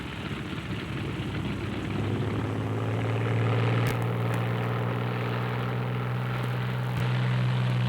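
A World War II P-47 Thunderbolt taxis out, its radial engine and propeller rumbling steadily and growing slightly louder, a sustained low drone with no talk.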